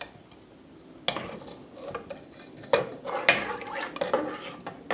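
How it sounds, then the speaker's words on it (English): A metal serving spoon clanks against a pot of ghee being made from butter, several times, sharp scrapes and knocks spaced irregularly, close by. "just place 1 serving spoon into it"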